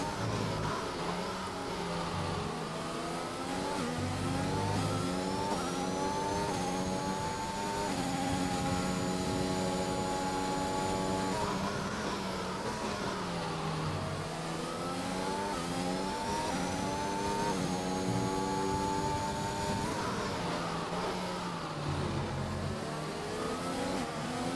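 Racing car engines at Portugal in a no-assist sim racing video game, loud and steady, rising and falling through gear changes as the revs climb and drop, close and continuous without speech.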